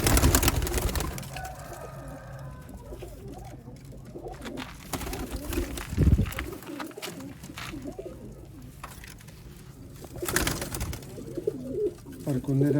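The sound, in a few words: old Sialkoti pearl-eyed pigeons cooing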